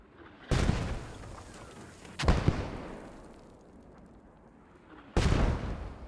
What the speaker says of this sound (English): A couple of Allied mortars coming down.